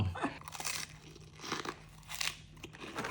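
Crunchy glass-noodle protein snack being bitten and chewed alongside spicy papaya salad, with several close, loud crisp crunches in irregular bursts and no talking.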